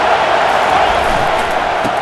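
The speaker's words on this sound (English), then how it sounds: "Defense getting a boost from this crowd on 3rd and long." A stadium crowd in College Football 25 roars steadily during a Georgia versus Georgia Tech game on third and long, a loud unbroken wash of cheering noise.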